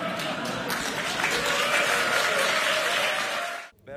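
A large audience gives Psy sustained applause after his speech recreating his Gangnam Style look, a dense wash of clapping at steady volume that cuts off abruptly near the end.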